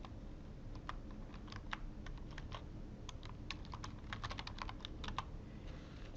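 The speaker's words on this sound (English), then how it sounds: "Interlibrary Loan lets you enter your NetID and password." A computer keyboard being typed on to enter a login ID and password, giving quick, faint, irregular key clicks in short bursts over a quiet background hum.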